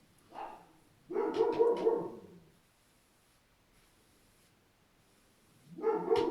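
Dogs bark in a shop where leather wallets are being sewn, a short yip followed by a burst of several barks, a pause, then another burst, moderately close with no talk.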